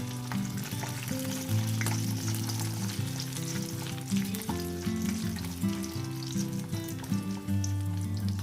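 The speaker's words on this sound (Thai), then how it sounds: "นำหมูกรอบที่เราหั่นไว้ลงไปทอดในกระทะอีกครั้งหนึ่งค่ะ" Steady sizzling and crackling of crispy pork deep-frying in hot oil in a wok, continuous and close, with a low musical backing underneath.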